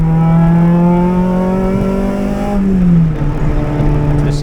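A Honda K24-swapped first-generation CRX engine with a 3-inch exhaust revs loudly up close, a deep exhaust drone rising in pitch and then dropping as the throttle eases off.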